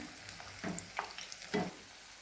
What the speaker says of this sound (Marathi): दोन्ही बाजूने चांगलं पलटून असं तळायचं बघा